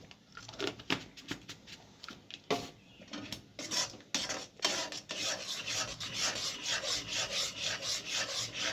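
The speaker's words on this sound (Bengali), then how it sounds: "এটা নাড়িয়েই যেতে হবে অনেকক্ষণ ধরে, যতক্ষণ না ব্লেন্ড হচ্ছে" Spoon scraping and stirring a thick mango papad mixture with chilli powder in a pan, a steady rasping rub that repeats in even strokes, close and fairly loud, with no talking.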